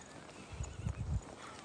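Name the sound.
horse hooves clip-clop and neighing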